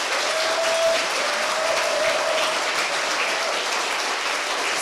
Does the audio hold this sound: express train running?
no